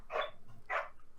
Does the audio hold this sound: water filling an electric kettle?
no